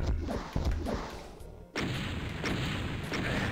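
Explosions go off in the video game Final Doom as a series of heavy booms, followed by a loud, sustained rumbling blast that fills the rest of the moment.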